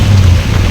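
Rain pours down in a short burst near a bus stand: a loud, close, continuous wash of drops over a deep rumbling undertone.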